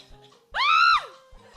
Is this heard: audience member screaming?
yes